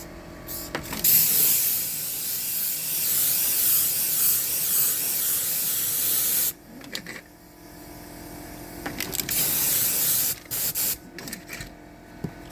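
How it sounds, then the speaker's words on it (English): A loud air compressor runs with a steady rushing hiss during a duct installation, then cuts out and returns in shorter, uneven bursts. "Let my compressor catch up to me. Thank goodness for compressors, right?"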